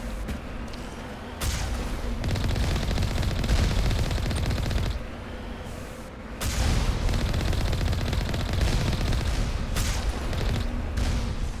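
Sniper rifle fire in the video game Mass Effect, a dense run of loud gunshots and heavy booms that continues through the fight with a brief lull partway, with no talk over it.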